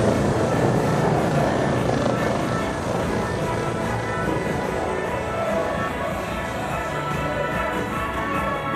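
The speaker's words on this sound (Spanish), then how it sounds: "En estos momentos podemos apreciar la formación aérea de helicópteros Guardián, que está conformada por 6 helicópteros." A formation of six Guardián military helicopters flies over an Independence Day parade, making a loud, continuous rotor and engine roar that holds steady throughout with a dense wash of noise.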